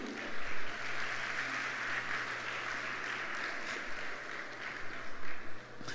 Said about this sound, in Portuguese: Dá um aplauso para o Senhor Jesus.